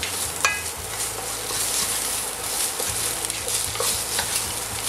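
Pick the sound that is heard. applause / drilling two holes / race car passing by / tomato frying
tomato frying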